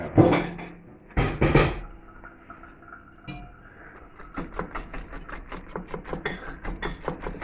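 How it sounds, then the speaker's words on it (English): A wire whisk breaks up Oxo stock cubes in a bowl: two loud knocks at the start, then a quieter stretch, then a steady run of rapid metallic clicks and scrapes. "See if we can break it up with the whisk"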